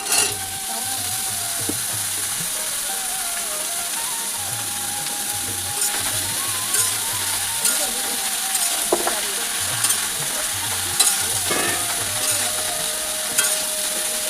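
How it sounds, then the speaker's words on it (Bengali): Ridge gourd and potatoes sizzle in a pan with a soft hiss, broken by repeated scraping and stirring clicks from a utensil. No one speaks. "চিচিঙ্গে আলুটা আমি একটু ভালো করে লাল লাল করে ভেজে নেবো"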